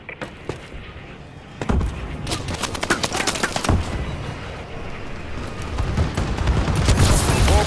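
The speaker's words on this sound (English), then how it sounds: "Friendly bombing run incoming." Bombing run blasts and heavy gunfire in Call of Duty: Advanced Warfare multiplayer, a dense, loud barrage of booms and cracks that builds steadily over the whole stretch.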